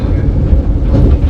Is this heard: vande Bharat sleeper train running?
yes